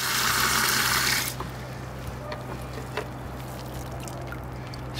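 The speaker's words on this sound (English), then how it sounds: "I'm filling up this pail to empty into the garbage cans in the basement." Water gushes into a pail for about a second, loud and splashing, then cuts off, leaving only a low steady hum.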